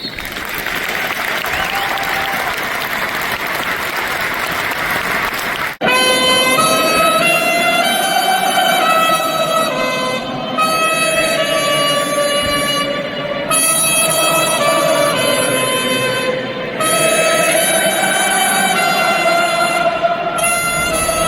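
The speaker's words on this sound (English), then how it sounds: "we observe a minute's applause that will start and end on the referee's whistle" A football stadium crowd at a Spurs home match against Leicester gives a minute's applause, dense, steady clapping for about six seconds, then a loud, sustained tonal sound with stacked harmonics takes over and holds, pulsing, to the end.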